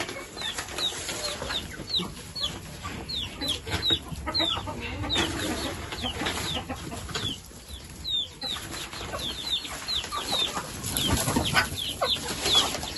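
Hens cluck steadily inside a chicken coop, with soft, repeated calls close by and the occasional rustle of wings throughout.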